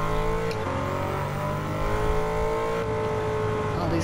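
A Lamborghini Urus SUV engine drones at speed in Gran Turismo 7, a loud steady high-revving tone with layered harmonics and slight pitch shifts as it drives on.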